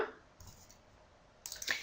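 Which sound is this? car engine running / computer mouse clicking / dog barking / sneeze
computer mouse clicking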